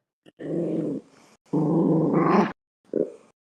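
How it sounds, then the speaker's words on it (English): A dog growls close by in three separate bursts, two long rumbling snarls followed by a short one, with no speech. "My dog is growling"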